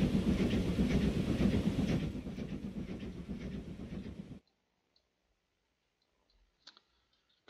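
Trains running in the Transport Fever rail-building game, a dense rolling rumble with rhythmic clicking of wagons over track, loud for about four seconds before cutting abruptly to near silence with a few faint blips.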